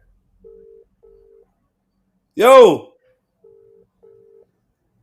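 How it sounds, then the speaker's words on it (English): Outgoing call ringback tone: two steady double-pulse rings, near and clear, with one short spoken exclamation between them. "that's me ringing your phone"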